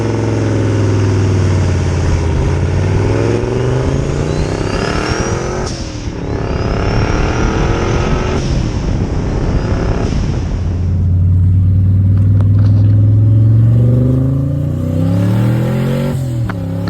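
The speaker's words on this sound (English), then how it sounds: "I'll throw in a clip here of the car making a little pull" A turbocharged C3 Corvette on a stock bottom end runs about 7 psi of boost and pulls hard through rising revs. The loud engine roars through several gear changes, then settles to a lower drone.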